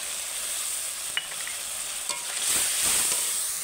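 Turmeric, cumin and coriander powders mixed into a paste fry and sizzle in hot oil in a pan, a bright continuous hiss with a few stirring clinks and a swell of sizzling near the end.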